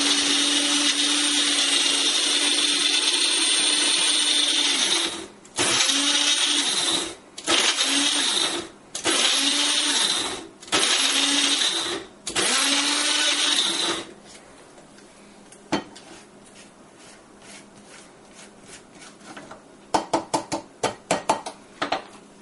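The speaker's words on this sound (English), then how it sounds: "You can also blend this on a bigger blender if you like." Small blender blending chutney for a guava and cilantro dip: a loud steady whirring motor run in several short pulses with brief pauses, then quieter clinks and taps of the jar afterward.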